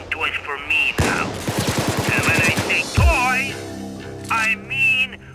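Rapid automatic gunfire bursts in the Payday 2 video game, loud and close, mixed with game music tones and voice lines from characters.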